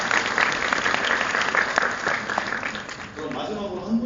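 Audience applause at a lecture-style one-day class fills most of the stretch as a steady wash of many hands, thinning out toward the end while faint voices emerge underneath.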